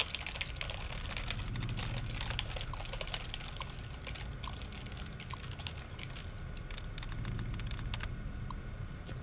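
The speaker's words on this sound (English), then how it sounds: "I'm doing some typing" Keystrokes on a computer terminal in Fallout New Vegas, a steady run of soft clicks and taps under a continuous background hum, with no talking.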